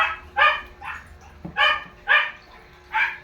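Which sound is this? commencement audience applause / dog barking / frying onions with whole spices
dog barking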